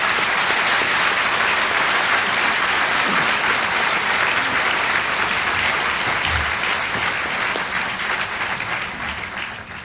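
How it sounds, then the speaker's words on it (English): Dense, loud applause from a dinner audience fills the room, steady and sustained for about ten seconds and tapering slightly at the end. "And now a round of applause for our distinguished group."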